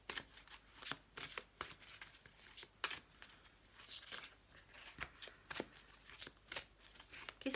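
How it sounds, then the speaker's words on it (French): Tarot-style animal oracle cards shuffled and drawn by hand, a steady run of crisp papery riffles and flicks at an irregular rhythm, close and fairly quiet, with no talking. "Et je vais tirer une carte des animaux aussi."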